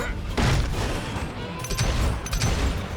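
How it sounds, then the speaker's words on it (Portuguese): Call of Juarez Gunslinger gunfire sounds as several sharp, close shots cracking in quick succession amid a busy game soundscape. "Eu falhei todos os tiros."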